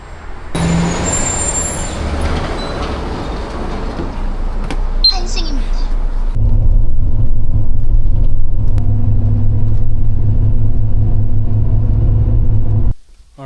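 City bus on a road in Korea, engine rumbling loudly up close with a sharp hiss of air brakes partway through, then a deeper, steady idle drone before cutting off abruptly; voices talk faintly at moments.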